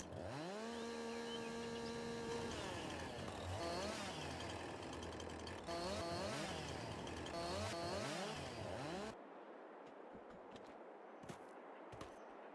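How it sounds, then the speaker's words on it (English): A video game chainsaw on a farm map drones steadily at a high pitch, then revs and rises and falls in repeated sweeping cuts before a sudden shift to harsher, rougher cutting noise. "Where's that chainsaw?"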